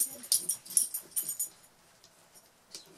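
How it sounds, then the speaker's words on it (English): A puppy whimpers and whines in short, thin, high-pitched bursts, close by and fairly soft, fading to quieter snuffles and a last faint whine. "Hey, Cider, what you doing, puppy?"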